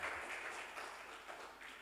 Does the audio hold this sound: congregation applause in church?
yes